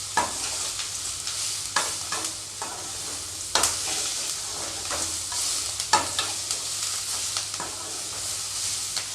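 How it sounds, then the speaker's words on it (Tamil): A thuvaiyal mixture sautéing in a pan, a continuous loud sizzle broken by regular scraping strokes of a spatula stirring to keep it from sticking. "நல்லா அடி பிடிக்காமல் கிளறி விட்டுக்கிட்டே இருப்போம்"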